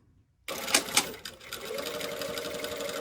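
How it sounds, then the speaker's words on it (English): A sewing machine stitches a lapped zipper with a zipper foot running along the zipper teeth, starting after a brief silence with a couple of sharp clicks, then settling into a steady close mechanical whir. "I'm sewing. I can feel the teeth under here, and I'm just going to run my zipper foot right along those teeth"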